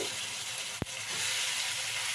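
Spiced aar fish fries in a pan with a steady, close sizzle. One sharp clack cuts through partway, then the hiss carries on.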